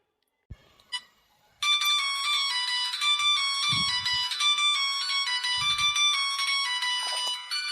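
A mobile phone ringtone rings loudly and steadily in a home courtyard, a bright repeating electronic melody that starts abruptly after a few soft knocks and continues without talk.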